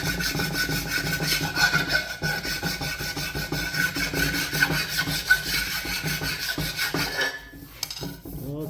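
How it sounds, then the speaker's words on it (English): A flat file rasps steadily back and forth over laser-cut steel plate to strip off burrs, a continuous gritty scraping with a rhythmic stroke that keeps up before easing off near the end, with no one speaking. "I just take a flat file and just kind of rub it all over everything"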